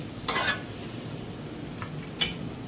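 Potatoes and green beans sauté in a pan under a constant low sizzle, with two brief scraping stirs of a spoon against the metal, one early and one near the end.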